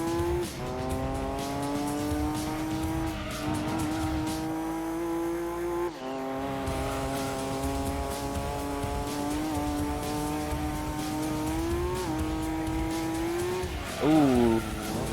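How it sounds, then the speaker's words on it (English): A 390 HP Nissan Skyline in Gran Turismo 2 drones with a sustained engine note that rises and falls through gear changes, ending in a brief tire squeal as the back end slides, with a voice talking over it. "Back end definitely slid out on us a little bit there."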